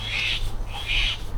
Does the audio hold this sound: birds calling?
yes